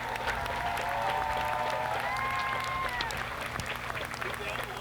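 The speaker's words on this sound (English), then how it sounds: "let's give a round of applause for all of our band seniors" Applause from a crowd at a high school football game, honoring band seniors, fills the whole stretch, steady and dense, with murmuring voices and a sustained musical tone running underneath.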